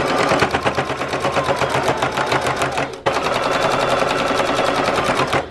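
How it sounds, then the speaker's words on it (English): A sewing machine stitches fabric for an oven mitt, its needle rattling in a fast, even mechanical rhythm, loud and close, with a brief pause midway before running on. "put that under the machine, and just turn this and sew as you go"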